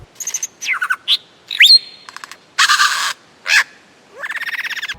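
A lyrebird mimicking other sounds in a string of varied calls: clicks, whistles, shutter-like snaps, buzzy bursts and a rapid chattering run, loud and close, with short gaps between phrases.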